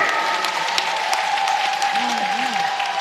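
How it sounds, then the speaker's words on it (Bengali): An audience claps loudly and steadily throughout a kabigan folk song-duel performance at the Rash festival in Badkulla, with a sustained instrument tone and voices mixed in beneath the dense applause. "সবাই জোরে জোরে করতালি"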